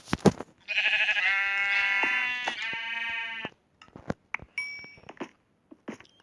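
Synthetic sheep bleats ring out in a long wavering burst, followed by scattered short clicks and electronic blips, with no talking.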